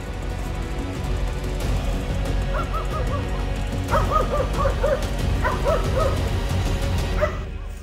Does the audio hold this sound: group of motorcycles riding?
no